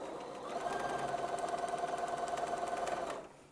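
A sewing machine back stitches fabric for foundation paper piecing, a fast, even mechanical whirr that runs steadily for a few seconds, then stops abruptly.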